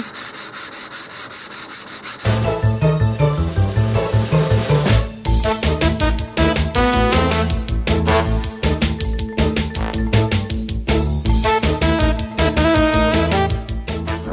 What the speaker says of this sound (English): just do some sanding with the grain here